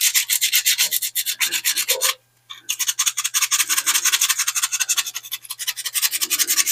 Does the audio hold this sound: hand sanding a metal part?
yes